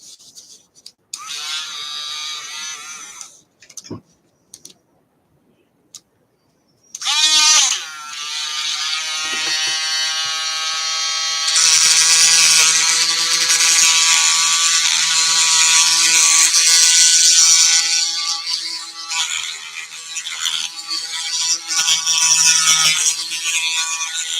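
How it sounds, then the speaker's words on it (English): A Dremel rotary tool grinds on a custom action figure with a high, buzzing whine. It runs briefly, stops for a few seconds, then restarts and runs loud and continuous to the end, its pitch shifting under load. "I actually need to get me probably a new Dremel. I've used this Dremel so much."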